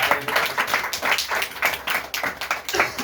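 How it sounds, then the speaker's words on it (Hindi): Congregation clapping hands together during a night prayer service, a steady series of rhythmic group claps, fairly close and continuous with no talk over them. "आइए ताली मारेंगे।"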